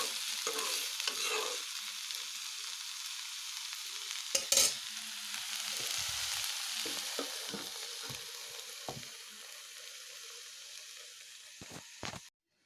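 Dry curry of banana peel frying in a pan, a steady soft sizzle broken by scraping and clattering stirs of the spatula, fairly quiet and close with no talking.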